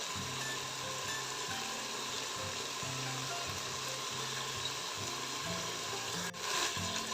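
Mutton biryani masala with tomatoes sizzles while being sautéed in a pan, a faint, steady crackle under a quiet low rumble, with stirring scrapes throughout.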